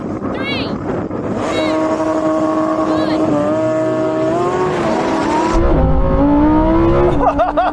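A Ferrari 488 Pista, Lamborghini Huracán STO and Porsche 911 GT3 launch off the line together, engines revving and rising through gears in loud, layered howls, with people talking and shouting over the roar.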